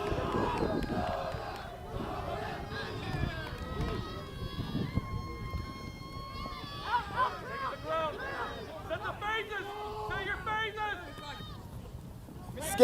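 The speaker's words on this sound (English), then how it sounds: "And the crowd on the far side are getting loud." A rugby match crowd on the far side of the pitch during a championship super regional game grows loud, a broad roar and chanting swelling behind continuous commentary.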